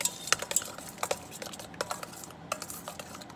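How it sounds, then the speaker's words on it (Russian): Meat stirred in a yogurt marinade with salt in a bowl: light scraping of a spoon with small clicks and taps against the dish, fairly close and quiet. "Все перемешиваем."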